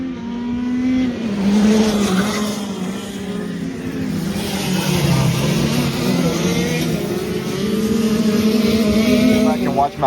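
Shifter karts race down the front stretch of a track, a pack of high-revving engines buzzing loudly and steadily with rising and falling pitch as they pass close by.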